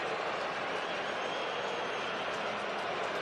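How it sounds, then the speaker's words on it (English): A large, anxious baseball crowd at Citizens Bank Park during an NLDS playoff game between the Phillies and Braves, a steady, dense roar of murmuring voices filling the ballpark without letup. "Anxious crowd at Citizens Bank Park."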